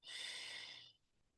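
A single deep breath drawn in through the nose, close and soft, a smooth breathy inhale lasting under a second before fading to quiet.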